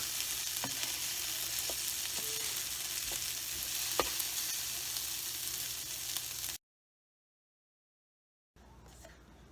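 Leftover carne asada fajitas sizzle steadily in a hot pan, a dense close hiss with a few sharp pops and stirring knocks, broken by a brief silence before the sizzle resumes.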